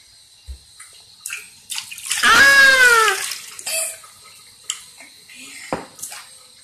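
Water is poured into a bathtub during a child's bath: one heavy gushing splash lasting about a second, surrounded by lighter drips, small splashes and clinks in a close, echoey bathroom.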